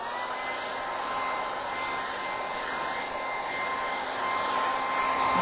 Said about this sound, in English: Let's just hit the hairdryer on it, in fact.